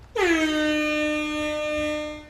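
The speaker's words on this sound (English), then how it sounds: "So for mine, I have the typical air horn." A DJ sampler firing an air horn one-shot: a single loud, bright horn blast with a brief pitch drop at the onset, then a steady held tone for about two seconds, with no one speaking.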